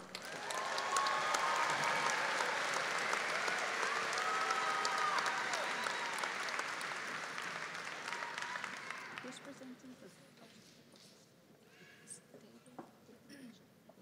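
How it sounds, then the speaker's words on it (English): Graduation audience at a university commencement ceremony applauds as graduates are honored, broad sustained clapping with some voices and cheers mixed in for about nine seconds, then fading to scattered claps and quiet murmuring. "Please honor these graduates with a round of applause."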